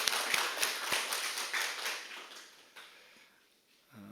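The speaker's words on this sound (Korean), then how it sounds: "또 여름 가운데 함께 하신 하나님께 영광의 박수 올려드리겠습니다" Applause from a church congregation, several sharp claps at first and then a brief burst of scattered clapping that fades quickly into quiet, with a faint sound near the end.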